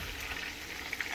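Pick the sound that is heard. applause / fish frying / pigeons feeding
fish frying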